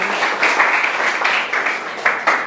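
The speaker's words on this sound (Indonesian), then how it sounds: "Oke, terima kasih, tepuk tangan dulu untuk Bagus." Audience applause at a university teaching-practice session, a steady wash of many hands clapping for the full stretch with a few sharper bursts near the end and no talking.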